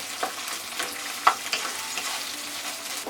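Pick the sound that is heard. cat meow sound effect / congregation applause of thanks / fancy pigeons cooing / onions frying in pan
onions frying in pan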